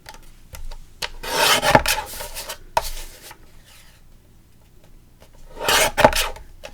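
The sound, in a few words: Tim Holtz paper trimmer trimming card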